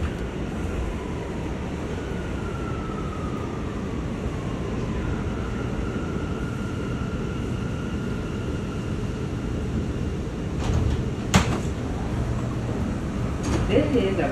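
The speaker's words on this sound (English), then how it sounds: "This is a Brooklyn-bound C local train." A Brooklyn-bound C local subway train, an R179 car, rides with a loud, steady rumble and a faint rising whine. A few sharp clacks come near the end.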